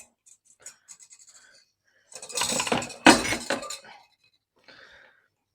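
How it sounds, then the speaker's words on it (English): Peach custard is scraped from a pot into a sieve: a few faint clinks first, then a dense, rough scraping burst lasting about two seconds with one sharper scrape in the middle, and a brief soft rasp near the end. "scrape it out into the sieve and then probably manually pass it through the sieve"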